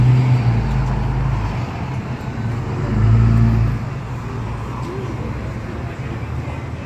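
Classic cars roll past along a cruising main street in Lake Havasu, a loud low engine rumble that swells briefly mid-pass before easing, with faint voices in the background.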